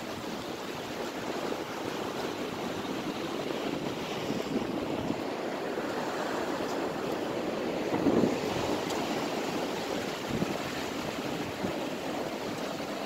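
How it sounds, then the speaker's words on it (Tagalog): Strong ocean waves wash against a Philippine seashore, a steady loud roar of surf mixed with wind buffeting the microphone, with a slightly stronger surge partway through. "Yung alon dito ang lakas."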